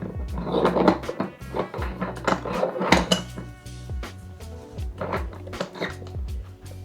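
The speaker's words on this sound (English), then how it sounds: "There we go, that's the top screwed onto the bottom" A moka pot's metal top is screwed onto its hot base through a cloth, giving repeated clinks, scrapes and clattering metal knocks, fairly close, with short pauses between turns.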